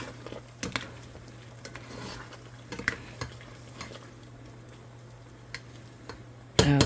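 Cheesy smoked sausage and veggie macaroni simmering in a pot, quiet scattered ticks and soft pops of bubbling over a low steady hum, close by, ending in a brief louder clatter.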